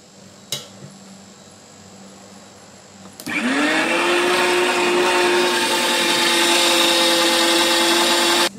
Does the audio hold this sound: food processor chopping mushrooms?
yes